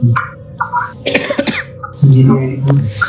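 A person who has been unwell with a cough coughs and clears their throat amid close talking voices, the rough bursts mixed in with speech.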